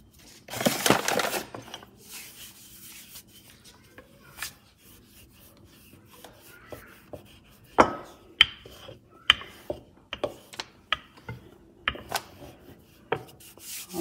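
Fresh pasta dough being worked with a floured wooden rolling pin: soft rubbing and rasping at first, then a run of irregular knocks and taps, close and alone without talk.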